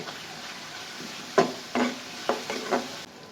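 Spice paste frying in oil for a Bengali fish and pointed gourd curry, with a soft steady sizzle and several sharp scrapes and knocks of a spatula stirring it in the pan, close by.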